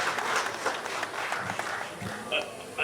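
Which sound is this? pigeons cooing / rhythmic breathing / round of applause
round of applause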